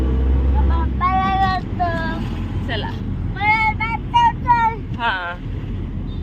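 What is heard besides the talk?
riding in an auto-rickshaw through traffic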